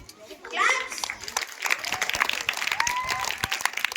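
Applause at an annual school prize distribution, a crowd clapping steadily over about three seconds, with children's voices and chatter mixed in throughout.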